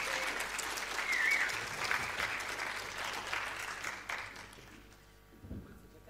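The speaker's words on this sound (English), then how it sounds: "Give him a big round of applause." A conference audience applauds, dense clapping from a seated crowd that starts strong, then thins and tapers over several seconds to a few scattered claps and a quieter room.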